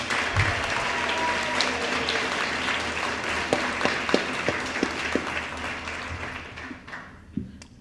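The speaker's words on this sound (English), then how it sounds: "Let's give them all one last round of applause." A banquet audience applauds award winners with a dense, sustained round of clapping that stays loud for several seconds, then thins out toward the end with a few scattered final claps.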